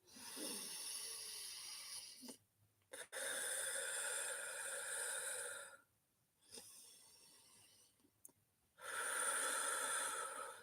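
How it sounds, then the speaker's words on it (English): A person takes deep breaths through the nose, with long airy inhales and slow exhales repeated close up, separated by short silent pauses. "When you deep inhale and you slowly exhale"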